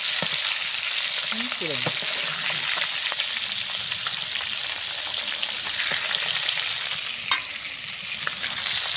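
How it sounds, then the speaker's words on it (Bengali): Fish sizzles loudly and steadily in hot oil, a dense close hiss with occasional sharper pops and a few faint clinks in the background. "মাছগুলো সুন্দরভাবে ভাজা হয়ে গেছে।"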